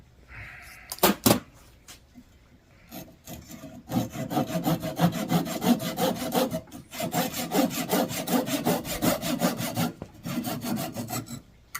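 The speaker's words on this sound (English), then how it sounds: "My plug cutting saw here." A plug cutting saw works through wood after a few sharp knocks, then settles into steady rhythmic back-and-forth rasping strokes that are close and fairly loud.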